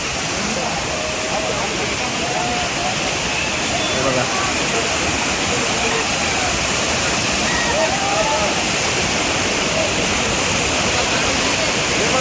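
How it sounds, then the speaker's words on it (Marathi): Main waterfall at Amboli in the Konkan, swollen by monsoon rain, roars as a loud, steady wash of falling water. It fills the whole span without letting up, and someone speaks briefly over it. "बघा मेन धबधबा आंबोलीचो."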